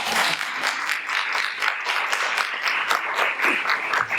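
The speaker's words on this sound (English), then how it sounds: "Give her a round of applause" Applause for a panel speaker at a live panel event, a room of hands clapping in a lively, uneven patter that stays fairly loud throughout with no speech on top.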